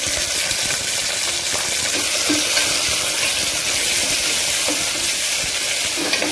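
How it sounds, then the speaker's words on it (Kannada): Onion, capsicum and tomato fry in a pan of hot oil with mustard and fennel seeds for a vegetable palav, a steady close sizzle with occasional stirring scrapes, no voices. "ಈಗ ಚೆನ್ನಾಗಿ ಫ್ರೈ ಆಗ್ತಾ ಇದೆ."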